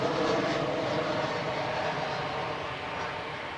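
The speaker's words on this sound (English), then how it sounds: "Qantas 1977 dropping in from Canberra" A Qantas airliner, a 19-year-old jet arriving from Canberra, lands at Adelaide Airport with a steady broadband engine roar that fades slightly as it passes.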